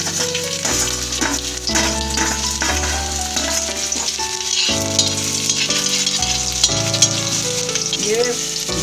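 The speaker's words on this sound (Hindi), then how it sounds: "ये ब्राउन होने तक लहसुन को भूनूंगी।" Chopped garlic frying in a pan until brown, a continuous close sizzle with intermittent stirring, mixed with background music.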